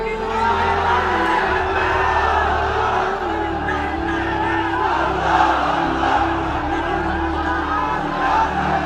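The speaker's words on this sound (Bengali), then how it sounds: "তাকবীর দেন তো একজন আওয়াজ করে।" Large religious gathering roaring the Allahu Akbar takbir chant together, a loud, sustained mass of voices shouting in unison, close and continuous throughout.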